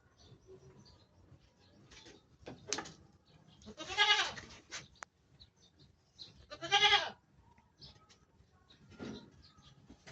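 Two loud, drawn-out bleats from a bloated goat stand out over quiet background, with a few shorter, fainter bleats and calls scattered around them.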